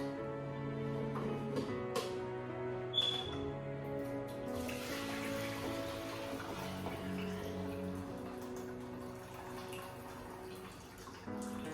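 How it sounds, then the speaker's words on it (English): Water from a saucepan of boiled potatoes pours out, a soft, steady splashing drain that runs for several seconds at low volume. "The potatoes is ready, so I'm going to drain the water out."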